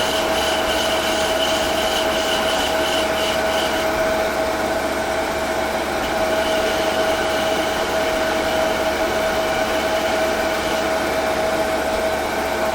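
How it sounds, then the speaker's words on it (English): Sandpaper rounds over a walnut chess pawn spinning on a wood lathe, a steady continuous whirring hiss with a constant motor hum running the whole time, no one speaking. "Pretty much rounding this over with sandpaper because I was unable to do it with the spindle"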